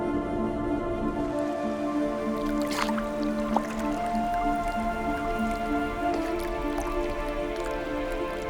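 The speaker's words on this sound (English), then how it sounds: "They crunch through the hard shell with uniquely chiseled teeth." A sea otter crunches and chews through a spiny sea urchin's hard shell, giving a steady run of wet, squishy crunching beneath a continuous musical bed in the Pacific.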